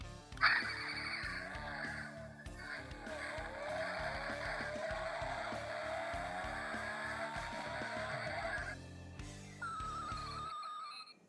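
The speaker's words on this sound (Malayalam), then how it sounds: "high acceleration then breaking drifting kind of സൗണ്ടാണ് എൻ്റെ കേൾക്കുന്നത്" A 1:32 diecast toy car's built-in sound effect plays a revving engine build to high acceleration, a tire squeal of braking and drifting, then a short closing tone, tinny and continuous for about ten seconds.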